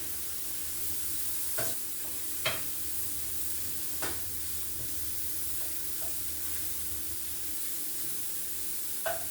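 Garlic sizzles steadily in a pan in a small home kitchen during preparation of creamy mushroom chicken, a constant frying hiss with a few brief clicks of stirring, with no talking.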